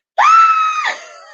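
A person mimics a terrified scream: one loud, sudden, high-pitched shriek that holds for under a second and then drops into a lower, fading groan, close and alone.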